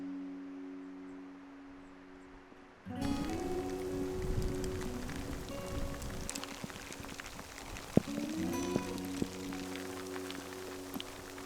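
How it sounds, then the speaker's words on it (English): Rain begins abruptly on a lowland trail in the Scottish Highlands along the west coast, shifting from quiet to a steady, dense patter that holds close and even, with a brief knock partway through. "If anything, it's starting to rain now."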